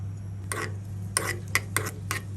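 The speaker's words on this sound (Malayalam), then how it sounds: "നമ്മുടെ നെയ്യിലേക്ക് ഞാൻ കുറച്ച് ചെറിയ ഉള്ളി ചേർത്ത് കൊടുത്തിട്ടുണ്ട്." Small onions are added to hot ghee and stirred, giving a handful of separate utensil scrapes and clinks over a steady low hum. Only faint sizzle sits beneath them.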